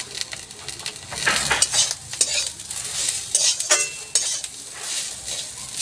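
Grated coconut with a little salt and turmeric frying in a pan while being stirred, a soft sizzle under repeated scraping strokes of a spoon, close and fairly quiet, no voices.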